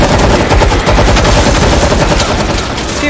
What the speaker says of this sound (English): I'm gonna shoot up three of them.